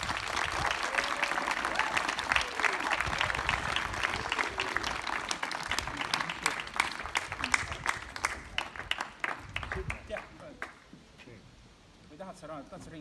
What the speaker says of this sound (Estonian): Teeme aplausi direktori poole.